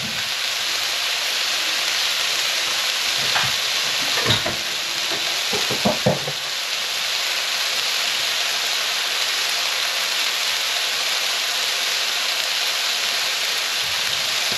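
Chipotle turkey meatballs frying in a pan give a steady, close sizzle that continues throughout, with a few brief clinks and stirring sounds early on and no talking.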